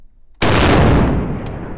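A single loud gunshot from a self-aiming precision rifle cracks sharply after a brief quiet lead-in, then a long rolling echo decays, with a faint secondary pop in the tail.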